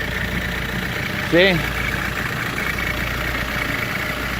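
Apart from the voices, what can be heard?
Audi A4 B6 TDI diesel engine idling after cold start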